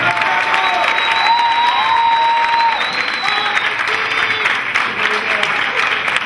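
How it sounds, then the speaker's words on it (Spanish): Loud, sustained audience applause with some cheering fills a live evening concert after a singer is introduced, steady and dense throughout. "¡Más fuerte ese aplauso!"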